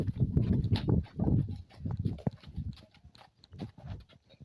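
A horse runs toward the listener on a farm, its hooves thudding in an uneven, fairly close rhythm over several seconds, with no talking.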